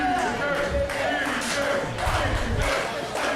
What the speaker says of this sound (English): I can't hear myself think for these cheers for Effy.